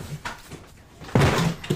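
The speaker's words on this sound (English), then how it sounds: "It's the one where he slams his feet on the desk." Feet slammed down onto a desk in a played-back scene: one loud, sharp thump partway through, with quieter knocks before and after.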